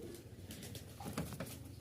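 Giribaz pigeons coo softly and low, giving a quiet, continuous murmur with a slightly stronger burst near the middle. No voices are heard.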